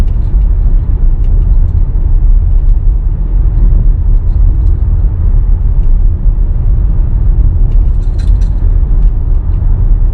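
Constant low road rumble and tyre noise fill the interior of a Tesla car driving on a road, with a few faint ticks and clicks in the cabin.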